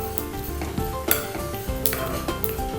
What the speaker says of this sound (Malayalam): ഇത് കൂടുതൽ നേരം കുക്കാവൊന്നും വേണ്ട, ഒന്ന് ചൂടാക്കുക മാത്രമാണ് നമ്മൾ ചെയ്യുന്നത്.